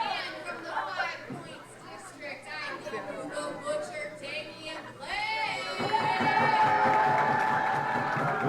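Arena crowd at a WPW Uprising wrestling event split between cheers and boos, a busy mix of shouting voices that swells louder in the second half, with a ring announcer talking over it.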